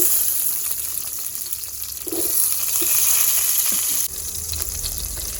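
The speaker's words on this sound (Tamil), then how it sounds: "இப்போது கட் பண்ணி வச்ச பெரிய வெங்காயம் போட்டுக்கலாங்க." Chopped big onions go into a pan with cardamom, cinnamon and fennel, giving a steady hissing sizzle that swells briefly, close and fairly loud, with no talking.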